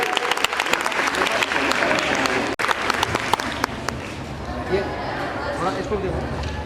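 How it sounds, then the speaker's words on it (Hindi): An audience at a school award ceremony honouring students in a calligraphy competition claps in sustained, dense applause. The clapping stays loud and steady from start to finish, with a brief break partway through. "और एक मरतबा जोर से आवाज बुलंद तालियां बजाइए।"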